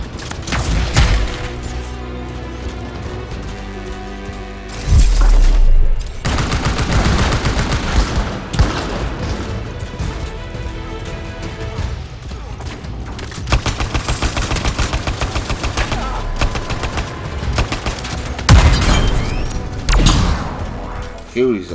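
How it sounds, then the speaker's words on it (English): Rapid bursts of gunfire in the video game Anthem, aimed at the player's flying character, crackle loudly and repeatedly with heavy thuds and booms over a busy game soundtrack, while voices talk at times. "They need to stop shooting me out of the air."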